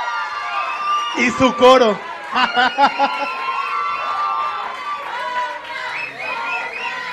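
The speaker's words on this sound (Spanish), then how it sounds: "Fuerte el aplauso para Renato" An audience at a singing competition grand final cheers and shouts rhythmically for a contestant, with loud voices rising in bursts over constant crowd noise, and a person talking among them.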